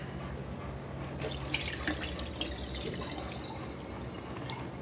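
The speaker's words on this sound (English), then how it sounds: "Dump some of this water out." Water dumped out of a container while preparing food, a soft splashing pour that starts partway through and runs into a steady trickle, faint and close, with a low hum beneath and no talk.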